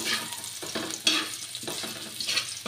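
Onion and tomato sauté in a pan for tinolang manok, a close steady sizzle broken by rhythmic scraping stirs.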